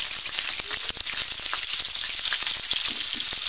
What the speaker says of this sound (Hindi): फ्राई कर लेंगे इनको